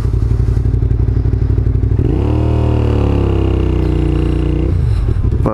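A motorcycle being ridden gives a loud, continuous engine drone close up, with the pitch rising and holding as it accelerates midway before settling back, with constant wind and road rumble throughout.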